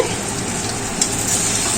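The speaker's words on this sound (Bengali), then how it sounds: "এদিকে আমাদের ভাজাটা হচ্ছে" Marinated soya chunks fry in hot oil with a dense, even crackling sizzle that holds steady and close, with a faint clink partway through.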